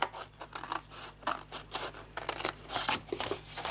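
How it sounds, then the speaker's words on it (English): Scissors cutting a half-inch strip of paper from a gift box bag, a close, quiet series of quick snipping and crisp slicing sounds in an even rhythm, with no talk. "all we need to do is to cut off this piece up the side here"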